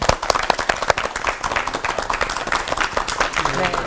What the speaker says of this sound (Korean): 오늘 함께해 주신 용사 11분께 큰 박수를 보내드리죠